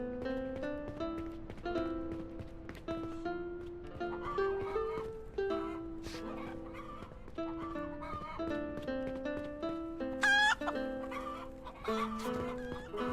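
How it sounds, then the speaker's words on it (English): Possessed chickens in the game Noble Legacy cluck and squawk repeatedly in busy, overlapping bursts over a constant background, with a sharp rising squawk near the end. "the possessed chickens were said to be near the woodcutters"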